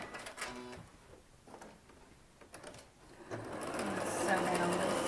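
A sewing machine stitches half-square-triangle quilt pieces in a fast, rising whir that builds toward the end. Faint clicks and handling come before it.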